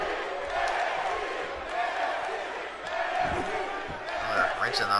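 Arena crowd noise from a WWE 2K18 wrestling match, a continuous roar of cheering that swells and fades under a commentator's voice, with a few thuds from the ring.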